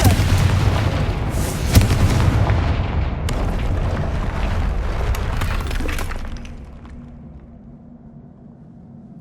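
A Confringo fire spell blasts in Hogwarts Legacy with a loud, roaring explosion and a long crackling rumble that holds for several seconds before dying down to a faint ambient hum.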